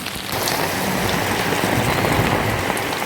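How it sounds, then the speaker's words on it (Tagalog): Heavy rain pours down in a dense, steady roar of drops hitting surfaces, loud and close throughout with no voices. "Kusog kayong ulan guys."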